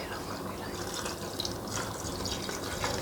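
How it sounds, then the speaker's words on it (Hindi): Water poured into a pan of chicken and sautéed spices, a steady close splashing and trickling that stays even throughout, with no voices over it. "थोड़ी देर मसालों को भूनने के बाद अब इसमें थोड़ा सा पानी शामिल कर देंगे।"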